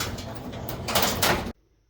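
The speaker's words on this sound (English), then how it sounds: "So it sounds like the rail's a little dirty or needs some more lubrication." Black five-drawer lateral file cabinet drawer sliding along a dirty, scratchy metal rail, a close rough scraping rush that swells for about a second and a half, then cuts off abruptly into quiet.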